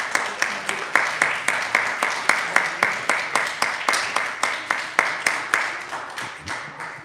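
A single person claps at a town meeting: steady, sharp, evenly spaced claps, roughly three to four per second, loud and close, continuing alone for about seven seconds before slowing near the end.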